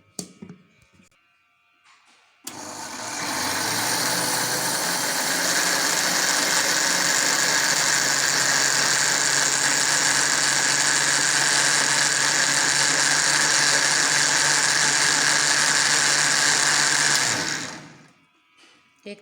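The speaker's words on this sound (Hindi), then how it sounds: "अब हम इसे ब्लेंड कर लेते हैं अच्छी तरह।" A kitchen blender whirs loudly and steadily for about fifteen seconds while blending a potato halwa mixture, starting abruptly and winding down at the end.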